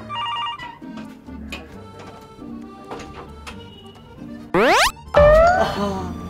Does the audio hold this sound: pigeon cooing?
no